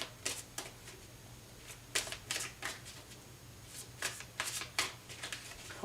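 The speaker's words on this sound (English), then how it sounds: "Hold on, one more shuffle." Tarot cards are shuffled in quick, crisp riffling bursts, several short flurries separated by brief pauses, close and fairly quiet, with no talking.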